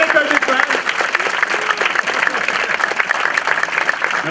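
Audience applause in a cinema before a screening, steady rapid clapping for several seconds with voices calling out over it.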